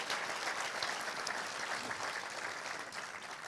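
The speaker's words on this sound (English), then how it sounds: "let's have a clap for the British Council" An audience at a science communication competition final claps steadily for the British Council, a faint, even wash of applause with no voices above it.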